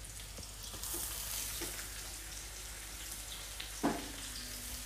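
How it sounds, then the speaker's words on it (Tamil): Garlic sautéing in a pan gives a steady, moderate frying hiss with light stirring scrapes and one sharper clink near the end, with no voices. "பூண்டும் சேர்த்து நல்லா வதக்கிக்கோங்க"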